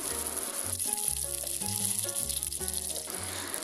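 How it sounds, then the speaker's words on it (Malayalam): Curry leaves and mustard seeds sizzle loudly and continuously in hot oil, with a dense hiss under background music. "കുറച്ച് കറിവേപ്പിലയും കൂടി ഇട്ട് കൊടുക്കുകയാണ്"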